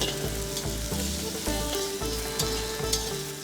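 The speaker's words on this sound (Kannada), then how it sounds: "ನೋಡಿ ಇದೆಲ್ಲ ಚೆನ್ನಾಗಿ ಈಗ ಫ್ರೈ ಆಗ್ತಿದೆ." Cumin and asafoetida frying in hot oil in a pan for Kannada-style mint rice, a steady close sizzle with crackling pops and occasional stirring scrapes, no voices.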